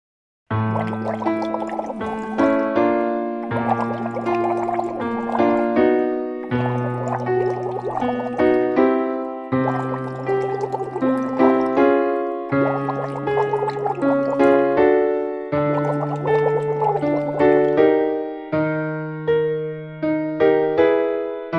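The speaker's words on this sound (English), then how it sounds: "your key aims are to make consistent, steady bubbles" Bubbling from air blown through a straw into water during a singing warm-up, paired with a sustained voiced tone that steps up and back down in repeated phrases, each phrase separated by a short pause.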